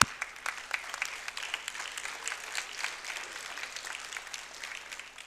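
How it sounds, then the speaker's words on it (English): Audience applause at an inauguration speech event, fairly quiet and somewhat distant, with scattered distinct claps that carry on through the whole stretch. "Let's give a big round of applause."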